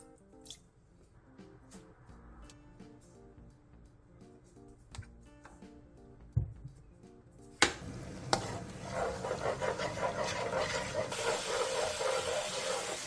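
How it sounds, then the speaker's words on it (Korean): Oyster sauce, soy sauce, soju, sugar and oligosaccharide syrup seasoning boiling on high heat in a pan. A few quiet clinks come first, then a loud, steady bubbling sizzle sets in and continues to the end. "굴소스 2스푼 반, 진간장 2스푼, 소주 3스푼, 설탕 3분의 1스푼, 올리고당 2스푼을 넣고 센 불에서 바글바글 끓여주세요"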